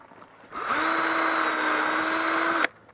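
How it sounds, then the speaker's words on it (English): A power drill pre-drills a hole in a 2x8 board, one steady high whine of about two seconds that starts and stops abruptly, close and loud with no talk. "I'm going to pre-drill a hole right here"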